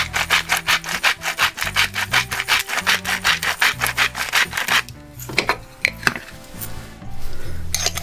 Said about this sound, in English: A little grind of salt.